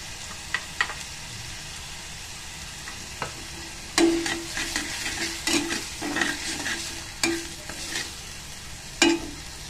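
Spices sizzling in hot oil over low heat while being stirred for an egg curry, steady frying hiss broken by sharp scrapes and clinks of a spoon against the pan.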